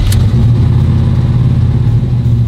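A car engine runs cold just after starting, a loud, close, rough and pulsing low rumble that holds with little change in revs throughout, and no one talks.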